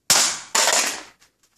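A Fluke 10 handheld multimeter hits a hard surface twice during a drop stress test, two loud sharp impacts each followed by a clattering rattle, then a few faint small knocks as it settles, with no talk.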